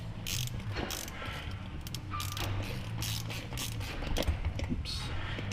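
A ratchet undoes nylock nut bolts on an aircraft wheel, with close bursts of sharp clicking over a low steady background hum.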